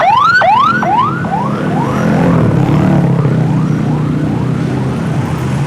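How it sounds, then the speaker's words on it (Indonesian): An ambulance siren wails close by in congested city traffic, rising and falling in a rapid repeating sweep that starts loud and gradually fades as it moves off, with engine rumble underneath. "harus ke pinggir dulu, ada ambulan."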